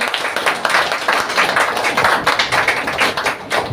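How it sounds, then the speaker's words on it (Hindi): An audience at a health product seminar claps together, a brisk run of overlapping hand claps with a fairly even rhythm, close and lively. "एक जोरदार ताली होनी चाहिए हमारे"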